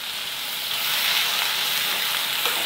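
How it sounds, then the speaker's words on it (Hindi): Finely chopped onion sizzles steadily in a hot pan, a dense, close frying hiss that holds even throughout with no voices. "अब हम इसमें एक बड़ा प्याज बारीक कटा हुआ डालेंगे।"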